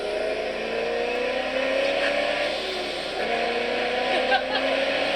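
A 1000hp mid-engine track car with a built transmission roars at high revs, a loud, sustained engine drone whose pitch rises and dips slightly. It stays close and dominant throughout.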